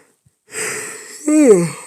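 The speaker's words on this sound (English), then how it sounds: "Sorry for all the yawning." A person lets out one close yawn, a breathy airy intake that swells into a voiced, sliding groan before fading.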